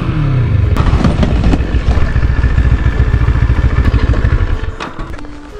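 Moto Morini Seiemmezzo motorcycle riding past, its engine loud and steady with a rhythmic mid-range drone and some rattle, fading slightly toward the end.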